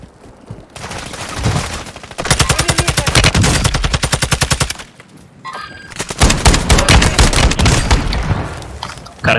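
Automatic gunfire in Call of Duty Modern Warfare II Warzone rattles in two long, loud, rapid bursts, with scattered shots and thuds around them and a short lull between.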